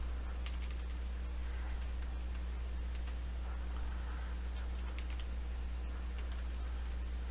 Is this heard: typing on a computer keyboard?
yes